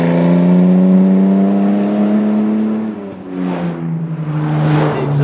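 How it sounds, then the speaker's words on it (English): A Jaguar C-Type engine revs loudly and steadily, its deep exhaust note holding a sustained drone before rising in a couple of throttle blips. "The exhaust note is one that makes you want to just rev it and rev it and rev it."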